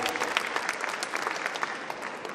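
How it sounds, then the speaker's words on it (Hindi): Steady, dense applause from an audience for Bharti Bhabhi, president of the SadaGyan Bhakti Group, as she stands on stage at a tribute event, continuous clapping throughout with no one speaking. "ग्रुप के मेंबर भारती भाभी के लिए जोरदार तालियां।"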